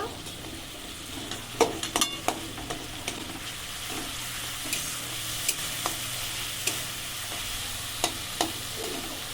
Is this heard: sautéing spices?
yes